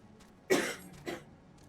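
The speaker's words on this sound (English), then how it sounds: "Cough it out, baby." Two short coughs, the first sharper and stronger, the second softer, alone against a quiet background with a faint throat sound before them.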